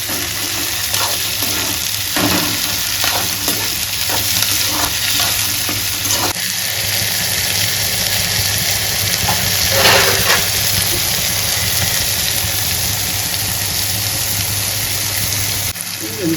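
Garlic, tomato and curry leaves sautéing in a pan, a loud continuous sizzle with a few scraping stirs early on, then mostly steady frying.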